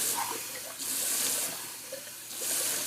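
Cold water runs from a bathroom sink tap for a face rinse after a wet shave. It makes a steady close splashing rush that swells and eases in two longer surges, with no talking.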